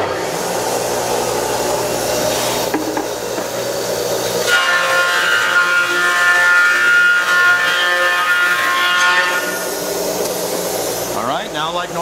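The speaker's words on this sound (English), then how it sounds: "So open up the gate and we're going to start planing." Wood planer feeding a glued-up board, a loud continuous machine roar that deepens into a cutting tone as the board passes, then a rattle at the end, with a voice speaking briefly.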